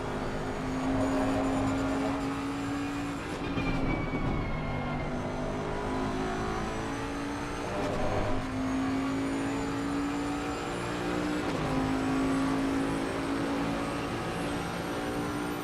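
A Bentley GT race car engine from a PC racing sim at Watkins Glen drones with steady tonal whine, shifting pitch through repeated gear changes and cornering, with other cars faintly around it.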